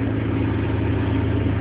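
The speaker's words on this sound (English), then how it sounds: "you can hear the amplified sound of your exhaust through the tube" Car exhaust picked up through a homemade stethoscope tube gives a steady, muffled low engine idle hum with no talking, continuous and even throughout.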